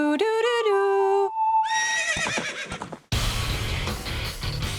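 Horse whinnying in The Legend of Zelda: Ocarina of Time, a loud, clear neigh after a short played melody, followed by a burst of broadband game noise.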